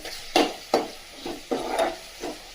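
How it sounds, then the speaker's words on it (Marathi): Onion and tomato being sautéed for a home-style val papdi vegetable: soft, quiet stirring scrapes in the pan come at a loose, irregular rhythm of about five or six strokes over a faint sizzle. "छान कांदा आणि टोमॅटो व्यवस्थित परतून घ्यायचे"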